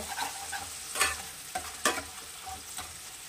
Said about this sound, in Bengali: আমি একটু নাড়াচাড়া করবো। মশলাটা ভালো করে কষে এসছে।